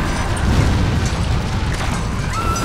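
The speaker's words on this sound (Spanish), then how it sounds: "Secciones del puente comienzan a caer sobre el río." A bridge in a disaster film collapses, with sections falling into a river: a loud, continuous, heavy rumbling roar of crashing debris and grinding structure, unbroken from start to finish.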